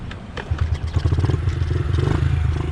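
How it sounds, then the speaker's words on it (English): A supermoto motorcycle engine cranks and catches, then settles into a loud, close, rapid idle thump with some mechanical clatter. "hopefully the bike even starts"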